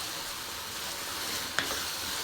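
Tomato and onion sizzle steadily in a frying pan for baingan bharta, a constant close hiss with one brief clink of a utensil partway through.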